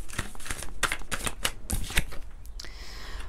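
Close, crisp riffling of a twin flames tarot deck being shuffled, a quick series of papery card bursts ending in a softer sustained slide.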